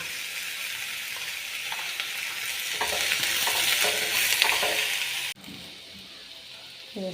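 Sliced onions sauté with curry leaves and salt for a clam meat roast, giving a steady close hiss of frying. Scraping stir strokes rise in the middle, then the sizzle drops abruptly to a softer level near the end, with no talking.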